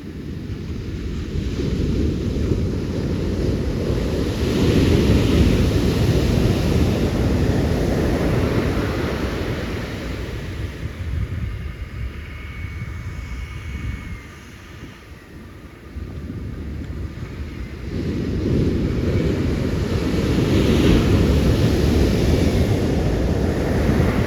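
Big ocean surf at Aliso rolls in as a loud, steady roar, swelling and easing with each set and briefly quieting near the middle, with heavy wind rumble buffeting the microphone throughout.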